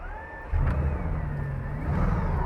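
A Bugatti Veyron engine starts after a push of the start button, jumping from a quiet hum into a deep, steady idle rumble that stays close and even, with no talking.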